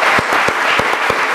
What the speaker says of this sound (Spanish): Un aplauso, por favor, para ti.